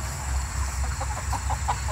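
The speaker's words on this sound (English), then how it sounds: "chickens are making their way around the patch" Chickens clucking in a watermelon patch outdoors, soft scattered clucks at a distance over a steady low rumble and insect hum.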